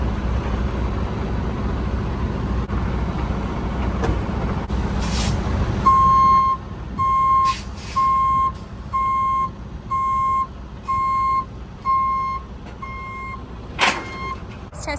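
Freightliner M2 truck with air brakes backing up, its reverse alarm giving about nine evenly spaced loud beeps over low engine rumble, with a sharp air-brake hiss near the end.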